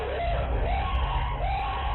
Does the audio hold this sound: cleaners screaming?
yes